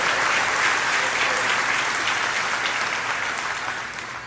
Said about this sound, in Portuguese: Pode dar salva de palmas